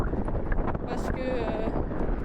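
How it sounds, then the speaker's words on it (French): Wind buffeting a microphone during a summer scooter ride outdoors, a continuous low rumble and rush that runs through the whole stretch. "J'espère que vous m'entendrez bien parce qu'il y a quand même assez de vent."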